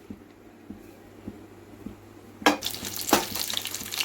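Broad beans frying in peanut oil for a long-keeping pickle: quiet at first with faint ticks, then a sudden loud sizzle breaks out and keeps crackling steadily.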